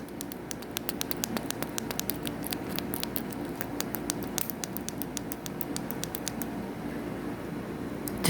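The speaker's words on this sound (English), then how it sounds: "Distress Cube makes good sounds." Fidget cube being clicked and fiddled with close up, a steady run of small sharp clicks and taps over a soft rustling background, with no talking.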